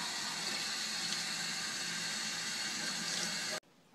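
Tap water runs steadily into a sink as a mackerel is rinsed for saba sushi, a close, even hiss and splash lasting several seconds before stopping abruptly, with no talking.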